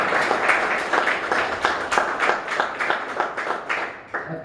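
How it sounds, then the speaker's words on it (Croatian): An audience at a cultural evening gives a welcome round of applause, a dense, steady clapping with a regular pulse that stays loud throughout, with no talking over it. "molila bih jedan veliki aplauz"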